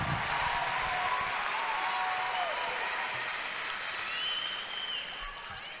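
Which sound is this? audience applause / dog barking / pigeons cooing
audience applause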